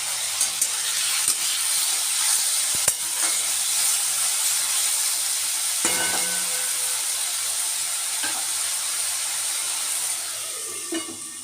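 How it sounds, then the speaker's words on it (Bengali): Mustard oil sizzling in a hot wok for a prawn dish, a steady broadband hiss running throughout with small clinks and stirring knocks, close and moderately loud. "এখন কড়াইয়ের মধ্যে আমি দিয়ে দিলাম সর্ষের তেল"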